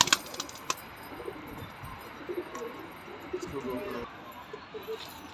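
Pigeons, including a kalsira pigeon, coo softly in a loft, with faint, scattered coos and rustles close by under quiet ambient noise and some background voices.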